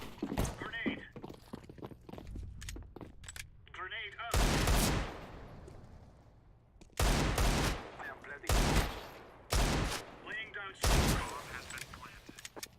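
Bursts of Counter-Strike: Global Offensive gunfire on the Mirage map crack out in quick volleys, several shots in a row, with a voice talking over the game noise in between.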